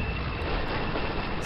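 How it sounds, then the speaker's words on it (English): Heavy tank engine from the game Call of Duty: United Offensive, a loud steady rumbling drone that fills the brief moment without any talk. "Is that a tank?"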